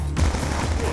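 Rapid automatic gunfire in Call of Duty: Black Ops 2, a dense burst of loud, close shots filling the whole brief moment.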